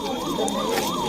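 An ambulance siren wails in a steady rising-and-falling sweep, loud and continuous, sounding on a crowded road during a supporters' welcome rally for Chandrashekhar Azad in the Chaksu assembly constituency, with no voices heard.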